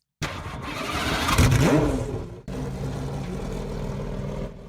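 A car in the Driving Empire video game starts up, heard from outside: a brief starter crank bursts into a loud engine catch that quickly settles into a steady, lower idle.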